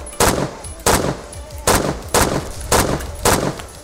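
Gunfire in the Phantom Forces video game: six evenly spaced, loud single shots, each a sharp crack with a short echoing tail, one shot roughly every 0.6 seconds and no talking over them.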